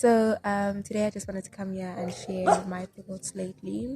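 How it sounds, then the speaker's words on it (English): Dogs bark outdoors in the background, partly masked by a person talking close up throughout. "I'm sorry about the dogs barking."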